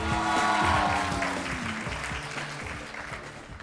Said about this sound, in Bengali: একটু জোরে সোরে করতালি দেব।